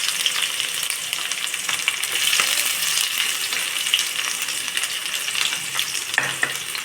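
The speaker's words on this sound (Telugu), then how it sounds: "కట్ చేసుకున్న ఉల్లిపాయలు వేస్తున్నాము." Chopped onions fry in hot oil with cinnamon and cloves for chicken khurma, a dense, steady sizzle that stays close and fairly loud throughout, with a few faint scrapes and no voices.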